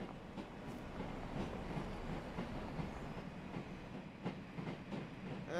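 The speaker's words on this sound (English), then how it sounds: "Looks like we've got a train coming through." Train passing in Train Sim World 5, a steady rumbling roll with faint clickety-clack rhythm and occasional higher squeals, sustained and fairly close throughout.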